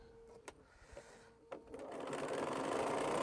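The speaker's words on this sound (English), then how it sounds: "This is the last seam that I have to sew on this" Sewing machine stitching a seam along a quilt backing made from leftover fabric, starting with a few short clicks and stops, then running continuously and growing louder toward the end.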